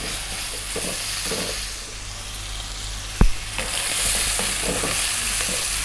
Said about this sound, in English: 2 minutes, stirring all the time